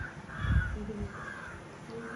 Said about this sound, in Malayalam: ബാക്കിൽ ബാക്ക്ഗ്രൗണ്ട് മ്യൂസിക് പോലെ കിളി